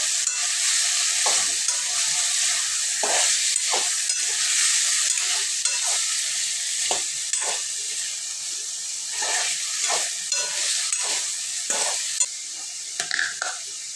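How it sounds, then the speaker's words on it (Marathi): Pumpkin curry stirred and mixed in a frying pan, a steady close sizzle with repeated scraping strokes of the spoon at an irregular rhythm, no voices. "थोडंसं व्यवस्थित हलवून घेऊ मिक्स करून घेऊ"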